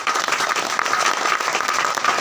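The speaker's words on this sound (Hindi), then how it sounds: "एक बार अपने लिए पुनः ताली बजाएं।" Audience applause at an RCM business training and celebration event in Pihani: dense, steady clapping from a sizeable crowd fills the whole stretch at an even, fairly loud level, with no voices standing out.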